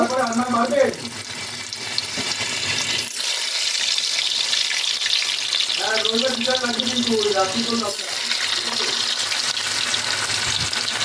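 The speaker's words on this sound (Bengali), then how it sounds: "এবার গোল গোল করে আলু কেটে নিয়েছি, আলুগুলো ভেজে নেব" Continuous hissing sizzle of round potato slices frying in hot oil, steady and close, with a voice talking briefly at the start and again midway.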